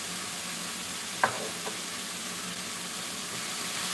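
Mushrooms and spring onion sizzling in a pan, a soft steady fry throughout with a brief clack of a utensil being stirred through partway.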